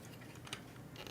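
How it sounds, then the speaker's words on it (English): Small plastic bricks clatter and click together in a soft, continuous jumble, with a couple of slightly sharper clicks standing out. Quiet and close. "the dulcet tones of Legos being shuffled around"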